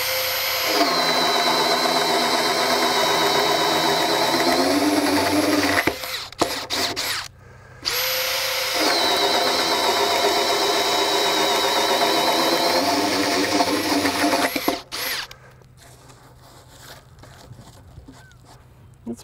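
A Makita 40V max XGT brushless 1/2-inch hammer drill-driver bores into wet lumber in two loud, sustained whirring bursts, each winding down to near silence and ending with a rattle and clatter.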